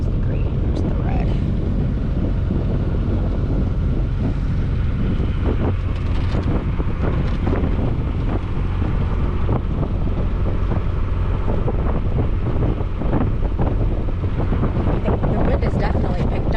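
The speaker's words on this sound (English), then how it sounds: "The wind is definitely picked up, so that's good." Steady wind roars and buffets the microphone aboard a sailboat heading from Corpus Christi to Rockport, a continuous low rush with faint engine-like rumble underneath and no clear breaks.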